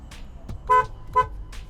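Two short car horn honks, close and loud, about half a second apart, with faint quieter tones around them.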